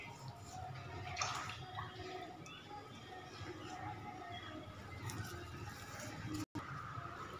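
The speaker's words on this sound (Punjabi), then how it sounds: "ਹੁਣ ਆਪਾਂ ਇੱਟ 'ਤੇ ਲਗਾਵਾਂਗੇ ਪਾਣੀ।" Water is poured onto a brick laid over mud during homemade Diwali crafting. It comes through as faint, close dripping and soft patter over low background noise.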